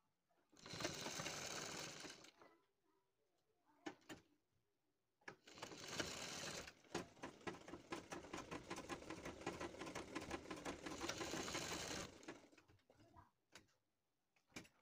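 A sewing machine stitches piping into the seam of a sleeve, running in two bursts: a short one of about two seconds, then a longer steady run of about six seconds, loud and close, with no talking.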